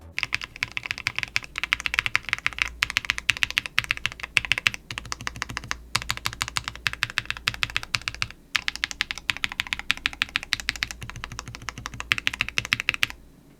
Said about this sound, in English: the Wisteria linear switches. And they still sound good even in a numpad.